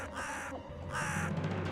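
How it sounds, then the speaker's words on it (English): Crows caw in two loud, harsh bursts near a window, each call drawn out, with a short gap between them and steady background noise underneath. "Crows gather here all the time, and they sit in front of my window cawing."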